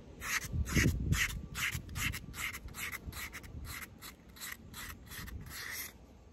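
A metal arcade pinball part is rubbed and polished by hand to remove rust, about a dozen brisk back-and-forth strokes in a steady rhythm, close up and with no speech.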